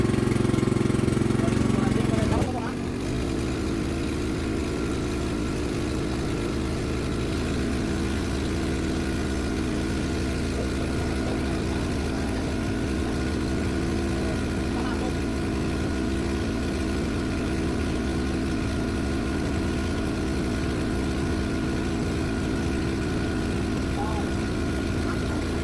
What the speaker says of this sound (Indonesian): kita nyalakan mesin dieselnya, baru kita genjot-genjot, baru kita pompa-pompa